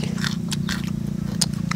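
Crunchy biting and chewing of fat field snails in a spicy pounded salad with fermented fish sauce, close and loud, a quick series of sharp crunches over a low steady hum.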